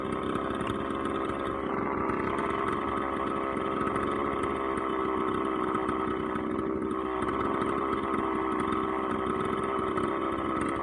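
A McCulloch 3818 chainsaw runs steadily at high revs, a loud, continuous buzzing engine drone held up close, slightly rich at the top end.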